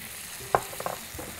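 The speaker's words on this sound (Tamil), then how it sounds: "இதில் இஞ்சி பூண்டு அரைவை நல்லா வதக்கணும்" Sautéed onion with ginger garlic paste in a pan, a low steady sizzle with a few quick scraping stirs close by.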